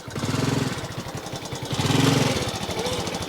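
A Honda Cub C90 motorcycle engine idles in first gear, a close, steady putter with a stronger surge partway through, and no talk over it.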